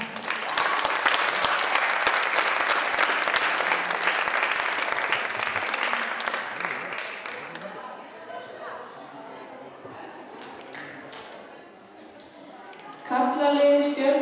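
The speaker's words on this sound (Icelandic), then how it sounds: "Gefið gott klapp." An audience applauds at a group gymnastics competition, loud sustained clapping that slowly thins and fades, with crowd chatter underneath and a fresh burst of sound at the end.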